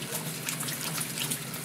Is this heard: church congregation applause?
no